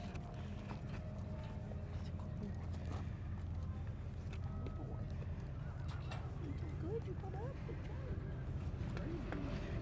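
A horse is led out of a stall, its hooves clip-clopping in a loose, uneven rhythm on a hard floor, with a low background hum, faint bird calls and people talking nearby.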